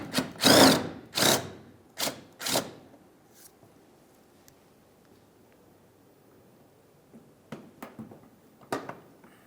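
A cordless power tool spins out a 10mm bolt holding the bumper cover on a 2002-2006 Honda CR-V, giving four loud, close whirring bursts, then quiet, then a few shorter, fainter bursts with no speech.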